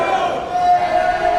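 Crowd at a CWFAZ 2018 wrestling match for EJ Sparks against Gino Rivera in Arizona, a steady loud cheer with a sustained chant-like tone, heard briefly.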